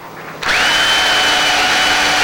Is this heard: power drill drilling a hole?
yes